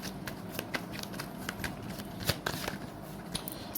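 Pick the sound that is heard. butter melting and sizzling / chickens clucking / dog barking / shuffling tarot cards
shuffling tarot cards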